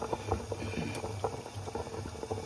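Water boils steadily in an idli pot cooker with a lid, steaming junnu (colostrum milk pudding) on a stand above, giving a continuous bubbling, simmering rumble close by with no voices.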